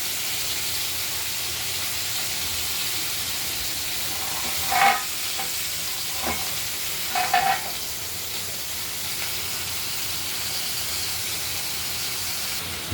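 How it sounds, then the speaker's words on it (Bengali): Flat beans and potatoes sizzle steadily in a hot pan, with a few louder bursts of clattering as the contents are stirred. "শিমটা আবার একটু হালকা ভেজে নেবো"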